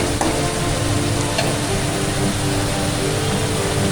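Spiced masala frying in oil in a pan while banana flower curry is cooked, a steady close sizzle with faint stirring scrapes running throughout, no voices.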